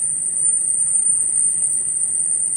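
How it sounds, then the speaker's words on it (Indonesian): A cricket sings one steady, unbroken high-pitched trill that runs without pause over a faint low background hum, with no voices. "Suara jangkrik."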